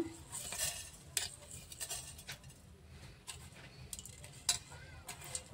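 Whole fennel, cardamom, coriander, cumin and mace stirred in a dry pan, giving soft scattered clinks and scrapes of a spoon against metal over several seconds, faint and intermittent with no voices.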